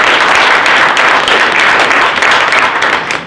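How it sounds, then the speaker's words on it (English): An audience at a sales meeting gives the panel a loud, sustained round of applause, dense steady clapping with a few cheers mixed in. "Let's give our panel a round of applause."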